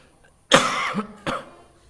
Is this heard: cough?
yes